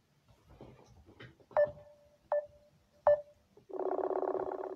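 Telephone dialing: three short clear keypad tones spaced about a second apart, followed by a steady ringback tone, heard close and alone after faint background murmur.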